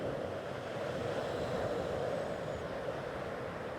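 Ocean surf washing onto a shore, a soft, steady broadband rush with no distinct breaks, fairly faint and continuous throughout.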